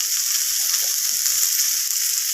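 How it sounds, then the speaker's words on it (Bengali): Potatoes with turmeric, chilli and cumin powder frying in oil in a pan, a steady close hiss of sizzling with faint stirring scrapes and clicks, no talking. "আলুর সাথে আমি ভেজে নিচ্ছি একটু নাড়াচাড়া করে"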